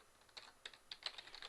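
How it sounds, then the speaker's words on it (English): Soft, close clicking of a computer keyboard as someone types carefully, with irregular keystrokes over a quiet background. "that's why I'm taking my time typing this"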